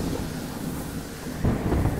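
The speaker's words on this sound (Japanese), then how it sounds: "おびただしい風が吹き荒れ、イカズチ稲妻が鳴り響いた" A thunder and lightning storm rumbles continuously with heavy low thunder and windy rain noise, swelling louder near the end, with no voices.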